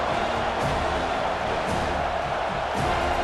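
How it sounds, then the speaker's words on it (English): A stadium crowd in College Football 25 roars steadily on third down, a dense, continuous wash of cheering that holds at a constant loudness without breaks. "Decibels rising as the crowd gets behind this defense on 3rd down."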